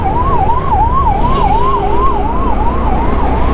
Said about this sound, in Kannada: ಆಂಬುಲೆನ್ಸ್ ಆಯಿತು.